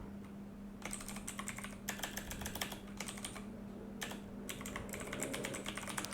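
Typing a website URL on a computer keyboard: close, quiet bursts of rapid key clicks separated by short pauses, over a faint steady hum with no talk.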